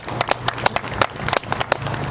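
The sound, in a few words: audience applause for Minister Louis Farrakhan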